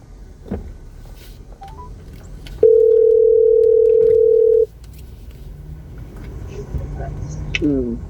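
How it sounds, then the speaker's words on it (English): A phone call dialing tone sounds as a single steady, clear electronic tone lasting about two seconds, with short electronic beeps near the end against a quiet background hum. "All right. Calling LaShawn Monroe, mobile phone."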